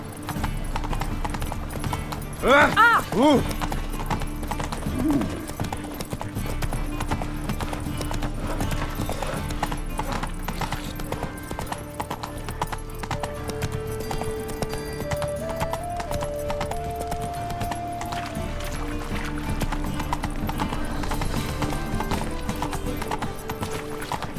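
Roach, the horse in The Witcher 3, galloping, a steady rapid clip-clop of hooves running throughout, with a loud whinny near the start and soft game music underneath.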